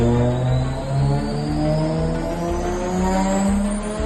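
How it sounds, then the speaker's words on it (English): A stock 1995 Nissan R33 GTR runs on a dyno, its engine droning loudly and steadily with layered harmonic tones as the revs gradually climb, close and alone. "My 1995 R33 GTR."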